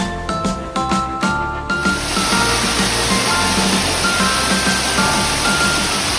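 The Rani Duduma waterfall near Koraput roars as a steady, loud rush of falling water, preceded by a few seconds of faint clicking and ringing tones before the full roar takes over.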